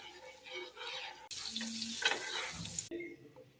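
Butter melts on a nonstick tawa in a home kitchen, giving a soft sizzle and crackle that swells loudly in the middle and then drops away abruptly near the end.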